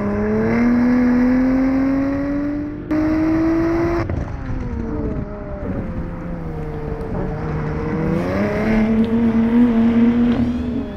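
A car engine revs hard with rising and falling pitch on a racing circuit as a gear shift fails to engage, the tone stretching and dropping abruptly before climbing again, loud and close.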